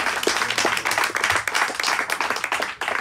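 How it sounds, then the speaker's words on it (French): An audience at a stand-up comedy show bursts into brisk, close applause, dense clapping that carries on for a few seconds. "Vous n'êtes pas obligé d'applaudir à chaque fois."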